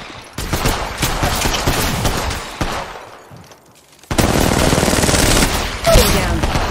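Rapid automatic gunfire in the mobile game Apex Legends Mobile comes in loud, dense bursts, with a short lull in the middle before another sustained volley rattles on.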